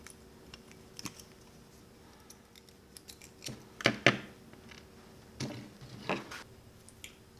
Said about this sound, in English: I'm going to cut the wire off and see how it goes